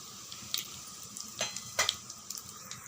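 Mustard seeds, urad dal, cloves, cinnamon and a bay leaf splutter in hot oil, with soft intermittent pops and crackles over a faint steady sizzle, close and quiet.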